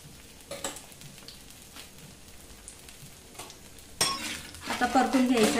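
Methi paratha frying on a pan as oil is poured around it, with a faint sizzle and a few soft scrapes that grow into a louder, steady crackle near the end, with no voices.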